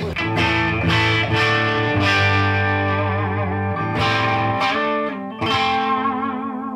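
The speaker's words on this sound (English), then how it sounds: "Kind of a nice overdrive sounds." Overdriven electric guitar chords through a Soldano Avenger 100 tube amp ring out loud and sustained, struck a few times with gritty distortion and slight wobble as notes decay.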